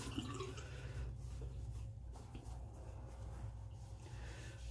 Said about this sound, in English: Rinse out the cloth.